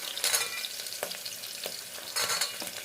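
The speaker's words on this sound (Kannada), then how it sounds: "ಬಟಾಣಿನೂ ಎಣ್ಣೆಯಲ್ಲಿ ಚೆನ್ನಾಗಿ ಹುರ್ಕೋಬೇಕು" Soaked peas frying in hot oil in a pan, a steady close sizzle with a few scraping stirs, no talking.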